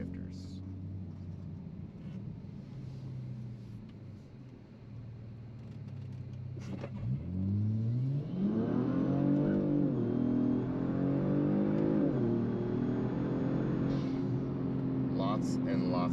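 A 2019 Kia Stinger accelerating hard through paddle-shifted gears on a wet surface, engine note climbing from idle into rising sweeps with a shift dip, heard from inside the cabin.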